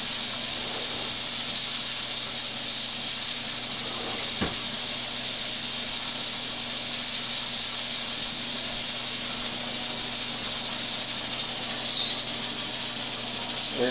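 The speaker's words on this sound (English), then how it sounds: "the steam is rushing out of there." Steam escapes from a pressure cooker loaded with jars of tomato sauce, giving a constant, even hiss that carries on unbroken for the whole stretch, with no one speaking.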